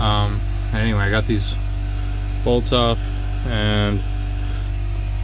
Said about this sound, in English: If you can hear that noise in the background, that's a compressor.